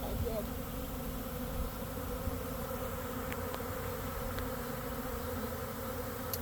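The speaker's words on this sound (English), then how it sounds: "This is a lot of bees." A honey bee swarm settles into a nucleus hive, making a continuous, fairly quiet buzzing hum of many bees that stays steady and unbroken throughout.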